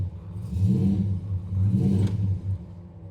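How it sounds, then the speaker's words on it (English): A 1969 Dodge Charger with a 383 V8 and a louder aftermarket exhaust idles and is blipped twice, each rev swelling into a deep throaty rumble before dropping back to a lumpy idle, heard close and alone. "Also does have a little more aggressive exhaust, as you can hear."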